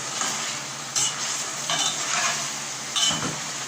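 Onion and boneless chicken fry in a karahi for a Schezwan chicken dish, giving a steady close sizzle broken by a few louder stirring scrapes, with no voices.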